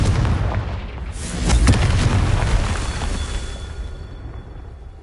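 The Confringo fire spell explodes in Hogwarts Legacy with a deep booming blast. A sharp crack and rumble peak early, then a long reverberating tail slowly fades.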